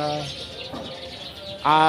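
A dense chorus of many birds chirping and cooing together in a tree at night, with a voice speaking over it near the start and end.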